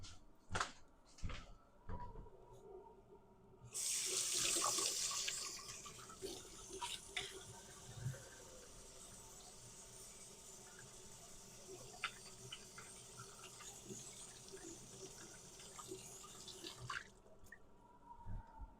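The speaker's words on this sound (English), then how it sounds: "Because that was raw Italian sausage, I'm going to wash my hands." Running water from a kitchen sink tap as hands are washed after handling raw Italian sausage, a steady rushing stream with small splashes and clinks, close and fairly quiet, with no speech.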